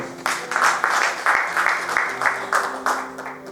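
A church congregation bursts into applause, a lively run of hand claps in a few rhythmic swells that carry on for several seconds in the hall.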